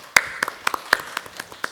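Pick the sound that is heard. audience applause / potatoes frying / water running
audience applause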